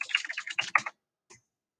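Close, quick typing on a computer keyboard while a book title is entered, a fast run of clicking keystrokes for under a second, then a pause and one last faint keypress.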